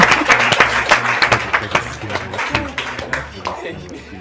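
A studio audience gives a round of applause for the Egerton and Strathmore university teams at a quiz show semi-final. The clapping is loud and close, with sharp individual claps over a crowd background and some talk underneath.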